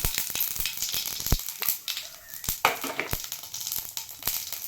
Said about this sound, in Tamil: எண்ணெய் காஞ்சிருச்சு கொஞ்சமாக கடுகு சேர்த்திக்கலாம் கூடவே ஒரு பத்து சீரகத்தையும் சேர்த்திக்கலாம்